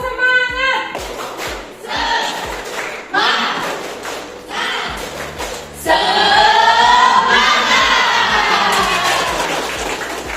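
A classroom of schoolchildren does a rhythmic clapping chant, loud and close, with steady hand claps under many young voices chanting and shouting together.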